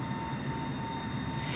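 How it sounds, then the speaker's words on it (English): Boeing 747 engines roaring in reverse thrust in Microsoft Flight Simulator, with a steady dense jet rumble that holds at one level through the whole short stretch, and no talk over it. "now we have reverse thrust going on for some reason"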